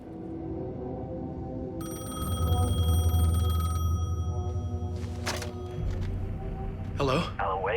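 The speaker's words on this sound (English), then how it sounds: "The payphone was ringing." A payphone rings in the video game Alan Wake 2 with a bright, sustained electronic ring over a low ambient drone, followed by sharp clicks and crackles. A voice speaks during part of it.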